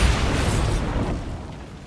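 A Bombarda blast spell goes off in Hogwarts Legacy: one loud, deep explosive boom with a broad rumbling burst that slowly fades over about two seconds.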